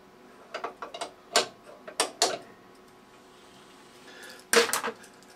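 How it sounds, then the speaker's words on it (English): An ER32 collet is tightened on a lathe, with scattered close metallic clicks and scrapes in uneven short clusters, a quiet pause, then a final louder burst. "Just tighten the collet up."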